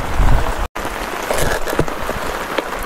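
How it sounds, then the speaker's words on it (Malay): Heavy rain pours steadily during river fishing in Perak, a dense close hiss of drops drumming on nearby surfaces with a brief dropout early on. "Hujan lebat ni."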